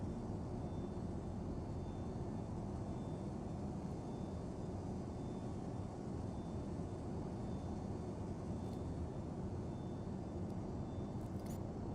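A Boeing 727 Super's engines hum in a Flight Simulator cargo flight for FedEx, a steady, even broadband drone that never changes and has no voices over it.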